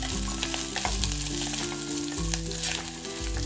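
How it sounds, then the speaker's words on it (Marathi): Potatoes and peanuts frying in melted ghee over low heat, a steady close sizzle with faint stirring scrapes beneath it, no voices. "त्याच्यामध्ये आपण हे बटाटे आणि शेंगदाणे घालूया।"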